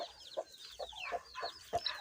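Chickens cluck in short, quiet bursts near a brood of hatched chicks, several clucks spaced irregularly over about two seconds with no talking.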